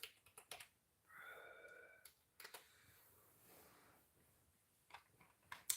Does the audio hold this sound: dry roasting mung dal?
no